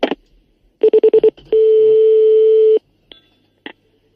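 A telephone number is punched in as a quick run of five short, loud touch-tone beeps, followed by one long sustained tone and a few scattered clicks and beeps afterward, with no talking.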